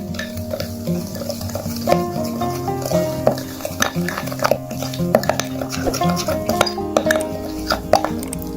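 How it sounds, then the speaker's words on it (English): A thick paste of baking soda and natural milk is stirred in a bowl, with steady scraping and occasional clinks of a utensil against the sides, under a bed of background music. "Keep mixing the ingredients until they combine very well together like so."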